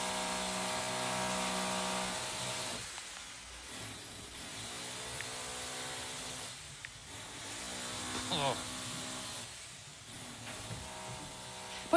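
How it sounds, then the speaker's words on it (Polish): An electric drill whirs steadily in a comedy film scene, with a constant buzzing drone broken by two or three short pauses, while muffled voices and background noise sit underneath. "Wyłącz to wiertło!"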